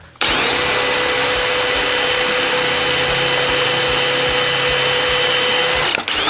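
A power drill with a dual-purpose bit bores into material, running as a loud, steady whine with a constant high tone for about six seconds before stopping abruptly; no voices.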